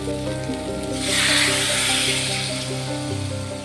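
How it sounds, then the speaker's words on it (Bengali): Water poured into a pan of spiced potato and elephant-foot yam curry, giving a rising hiss and sizzle over a steady background hum, loud and close for a few seconds. "এখন জল দিয়ে দেবো।"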